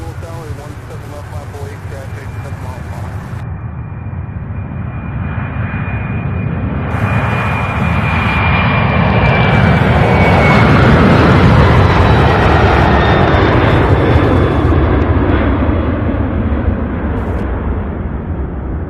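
A cargo jet, likely a 747, at UPS Worldport in Louisville, with a loud, sustained engine roar that swells and fades as it passes.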